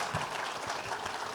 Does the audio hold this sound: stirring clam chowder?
no